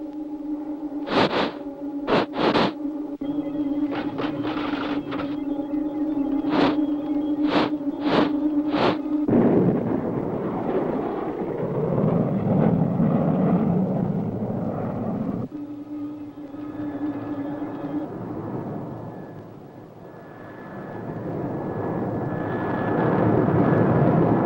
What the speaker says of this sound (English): Space Angel just landed in the Starduster.